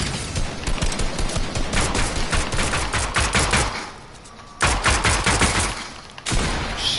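Rapid gunfire in Fortnite, loud dense bursts of automatic shots with short pauses between volleys, close and dominant.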